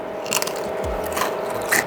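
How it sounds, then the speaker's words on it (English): Someone bites into a piece of crunchy dehydrated bacon, producing a few sharp, close crunches and crackles followed by brief chewing, with no talking. "Tastes like crunchy bacon. That's better than a potato chip."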